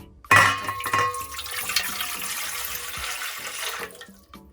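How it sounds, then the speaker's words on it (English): Water gushes suddenly and splashes steadily into a jar for a few seconds, close by, then tapers off. "So we're gonna add the water."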